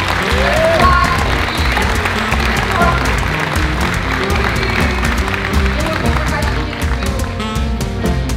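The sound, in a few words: audience applause at a live podcast show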